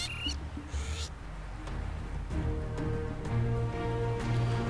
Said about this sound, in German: Oh, schön, Papageien.